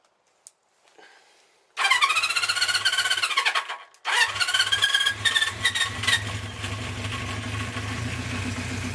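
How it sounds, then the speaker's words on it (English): A 1974 Honda CB 350 Four motorcycle on choke cranks and catches, cuts out after a couple of seconds, then restarts and settles into a steady, fairly loud idle with an uneven, throbbing note. "So let's put it on choke."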